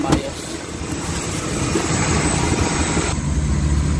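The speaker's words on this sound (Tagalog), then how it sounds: "sobrang ingay ng timing chain, may bearing talaga na maingay, tsaka yung engine vibration ng crankshaft, main journal, talagang kalampag" Suzuki K6A engine idling with a noisy timing chain and worn bearings, a steady close rumbling drone with a faint rattling edge throughout.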